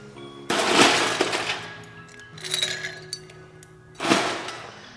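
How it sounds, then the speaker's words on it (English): Ice cubes clinking and rattling against a mixing glass as an Old Fashioned cocktail is stirred, bursts of glassy clatter rising and falling in separate waves, close and fairly loud, with no talking. "So I'm just gonna keep stirring until my glass feels really cold"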